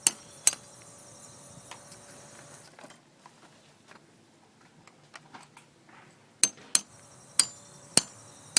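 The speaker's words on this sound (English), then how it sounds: "you might find it necessary to get a metal chisel and just tap the heads off the rivets" A metal chisel tapping the heads off drilled-out rivets on an A&E model 8500 RV awning, with sharp metallic taps in scattered groups, loud and close, and faint clicks between them.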